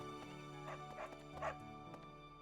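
Dog barks and whimpers from a dog in Fire Emblem: Three Houses, a few short yips standing out over steady game music with no talk.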